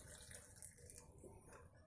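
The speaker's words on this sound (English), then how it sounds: "So we're going to pour out some of the water" Water pours from a pot in a home kitchen while making fig jam, a faint, brief splashing trickle with no voices.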